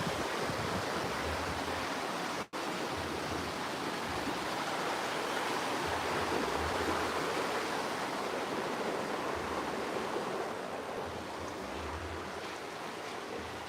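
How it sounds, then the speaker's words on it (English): Outside a matrimonial guest room with a river view, the river flows as a steady, broad rush of water that continues without a break, with one brief click near the start. "the river"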